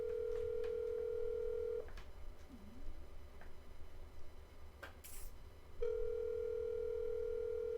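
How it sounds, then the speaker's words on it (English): Phone line ringback during a call attempt: a steady electronic ring tone sounds, pauses for a few seconds of faint line noise, then resumes, fairly quiet. "Let's see if I can get her on the phone."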